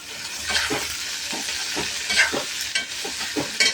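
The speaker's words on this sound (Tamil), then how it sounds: "இப்போ நல்லா வதங்குது" Garlic, onion, tomato and crushed green turkey berries sauté in a hot pan, a close sizzle broken by rhythmic scraping strokes of a spatula stirring them every half second or so.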